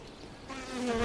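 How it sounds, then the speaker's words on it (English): A mass of young honeybees hums and buzzes inside an open hive frame. The close, steady drone swells slightly louder toward the end. "I know there's a lot of bees in here"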